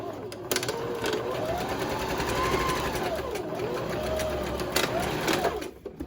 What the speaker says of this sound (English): So all you do is sew down these darts, and I'm going to back stitch on the ends.